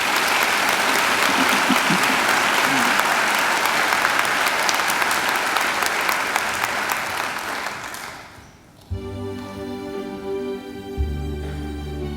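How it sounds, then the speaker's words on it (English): A large graduation ceremony audience gives a long, dense round of applause that fades at about eight seconds, after which music begins. "I think she deserves another great round of applause"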